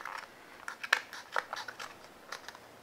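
Scissors snip through the plastic packets of a Kracie Popin' Cookin' hamburger snack kit, giving a run of short, crisp cuts with light crinkling, close up and unaccompanied by talk.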